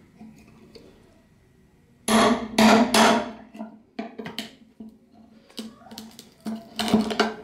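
Old hinge on a car fuel filler door being broken apart, heard as a few sharp, loud cracking and snapping impacts in a quick burst, then lighter scattered clicks and snaps of plastic pieces close by.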